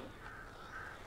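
Crows cawing in the Alan Wake video game, a steady layer of harsh calls over a constant ambient background, moderately loud and without speech.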